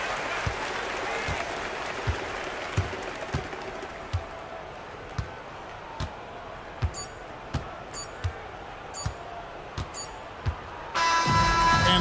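Arena crowd applause in a basketball video game, a steady wash of clapping and cheering with regular squeaks and thumps over it, ending in a louder burst.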